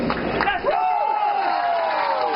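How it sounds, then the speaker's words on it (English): Crowd of Orioles baseball fans cheering their team from outside the fence at Camden Yards during a White Sox game, a steady roar of mixed voices and whoops throughout. "Orioles fans cheer their team from outside the fence at Camden Yards"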